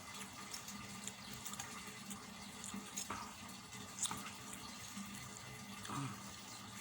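Tap water runs steadily into a basin, a continuous broadband wash with small splashes throughout, moderately quiet and alone.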